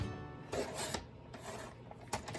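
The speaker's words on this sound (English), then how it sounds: "let's just trim off that little edge" A quiet run of short raspy cutting strokes as the edge of a paper craft card is trimmed, three or four brief scraping passes close by with near silence between them.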